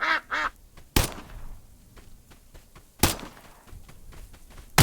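Ducks quack in the video game Escape from Duckov, a quick pair of nasal quacks near the start followed by sharp thuds and scattered clicks and movement sounds.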